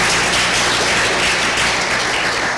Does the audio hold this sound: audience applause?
yes